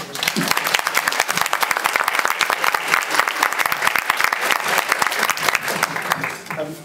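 Lively applause from a luncheon audience welcoming a speaker, many distinct claps in a fast, dense patter at close range, steady and loud before tapering slightly near the end, with a voice briefly surfacing at the close.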